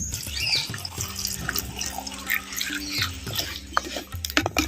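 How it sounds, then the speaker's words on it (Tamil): About 200 ml of water splashes and trickles steadily into a cooking pot of drumsticks, a continuous close pour with faint clinks, no voices. "முருங்கைக்காய் வேக வைக்கிறதுக்கு இரநூறு மில்லி தண்ணி சேர்த்துக்கிறேன்"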